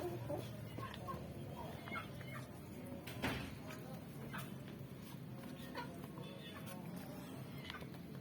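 Turkeys clucking and calling as they feed freely outdoors in the late afternoon, a steady close flock chatter with a dog audible among them and people talking in the background.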